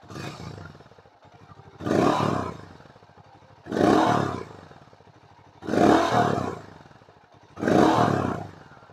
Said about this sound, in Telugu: సో ఇప్పుడు రేవ్ చేస్తాను, చూడండి ఎగ్జాస్ట్ ఎలా ఉందో.